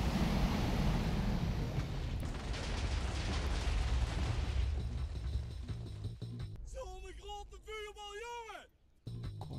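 Video game explosion blowing up a dragon: a heavy booming blast with rumbling debris for several seconds, fading, then sweeping synthetic tonal game effects and a final sharp burst, with someone talking over parts of it.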